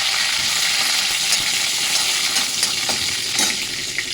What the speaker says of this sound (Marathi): कढीपत्त्याची फोडणी देणार आहे